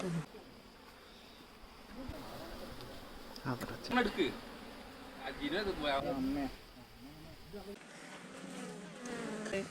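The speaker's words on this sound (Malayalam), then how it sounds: "തേനീച്ചക്കൂട്ടിലൊക്കെ കൈ വെച്ചിട്ട് കുത്ത് വാങ്ങിക്കാന്നറിയാം" Honeybees buzz steadily around a hive after someone reaches into it, a continuous close drone running the whole time beneath intermittent voices.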